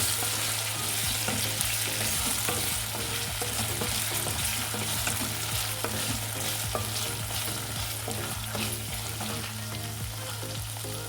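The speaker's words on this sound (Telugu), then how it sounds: "ఇవి వంకాయలు ఫ్రై అవుతుందండి, ఒకసారి కలిపేసుకోండి." Brinjals frying in a pan as they are stirred, a continuous sizzle with repeated scraping strokes, steady and close with no one talking.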